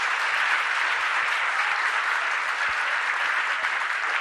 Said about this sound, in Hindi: आप लोगों को ताली बजाने में भी संकोच होता, बजाओ जम से।